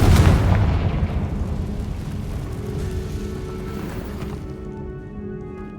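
A Confringo blasting spell in the Hogwarts Legacy video game sets off a loud booming explosion in a catacomb, a sharp burst that trails off into a long rumbling, debris-like roar before fading.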